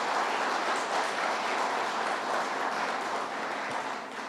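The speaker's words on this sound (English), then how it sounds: "Let's give them a round of applause" Sustained applause from an audience at a press event, a steady dense wash of clapping that fades slightly toward the end.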